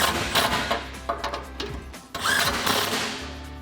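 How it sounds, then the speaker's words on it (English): A 16mm socket wrench tightens the bolts on a Barricade Extreme HD modular front bumper fitted to a 2018-2020 Ford F-150. Close mechanical ratcheting and clicking comes in short bursts with brief pauses between them. "And then we can take a 16mm socket to tighten these down."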